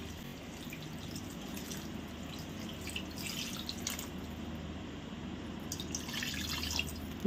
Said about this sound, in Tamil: இப்போ இதில் வந்து தண்ணி சேர்த்துக்கலாங்க.